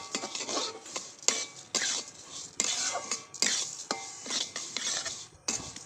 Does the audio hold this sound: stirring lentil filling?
yes